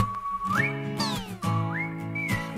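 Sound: whistling

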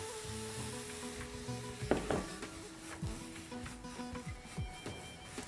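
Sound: green onion sizzling in a frying pan with chicken and ginger

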